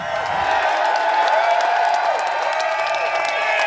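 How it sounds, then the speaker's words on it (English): A large outdoor crowd at a Canada Day rally cheers, whoops and applauds continuously, a loud, steady wash of clapping and shouting with no break. "Cheer for Norman."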